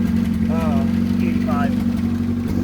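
A boosted Honda Accord with an F23 engine idles steadily while warming up, a low, even rumble held throughout, with people talking briefly over it.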